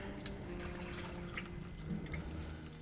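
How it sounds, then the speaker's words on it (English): Water dripping and trickling from the body of a tankless water heater into a bucket, soft irregular drips and splashes over a steady low background hum, close and fairly faint, no talk. "a little bit of water will drip back out of the body of the heater and into the bucket"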